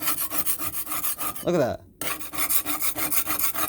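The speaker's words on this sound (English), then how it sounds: "It's clean just from scrubbing it with a freaking spatula." A metal spatula scrapes and scrubs over the rough unpolished side of a marble slab used as a grill, in rapid repeated rasping strokes, broken by a brief pause and short spoken words.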